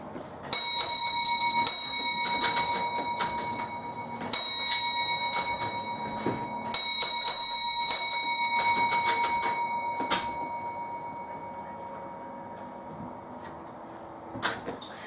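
A signal box bell struck in short groups of rings sounding railway bell codes, each strike ringing on with a bright metallic tone and fading between the groups.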